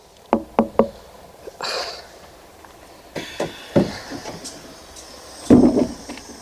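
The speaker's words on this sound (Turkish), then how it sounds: "kapıyı çalalım bakalım" Knocks on a caravan door at a seaside campsite, three quick raps followed by a few scattered knocks and a louder thump, close and alone with a brief rustle between them.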